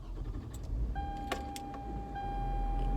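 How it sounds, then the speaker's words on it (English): A car is switched on with its air conditioning blasting: a low engine rumble and steady blower roar fill the cabin, with a sustained electronic chime tone and a few brief clicks and rattles near by, no one speaking. "Let me turn my car on. The AC on blast."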